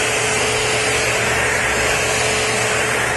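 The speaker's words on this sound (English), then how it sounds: "so before I wash it I want to vacuum this seam real carefully" A vacuum cleaner runs over the canvas or vinyl fabric top of a convertible, giving a loud, steady, unbroken whooshing drone throughout.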